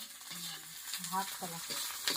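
Pond snails frying in a pan with spices, a soft steady sizzle with intermittent stirring scrapes, fairly quiet and close, with no talking.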